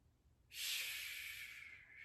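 A single long, deep inhale through the nose during a guided breathing meditation, starting after a brief silence and sustained, airy and close for about a second and a half.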